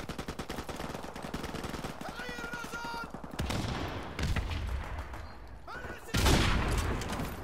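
Gunfire in the video game Call of Duty Modern Warfare Remastered, a rapid regular train of close shots followed by heavier bursts and booms, with voices heard at times.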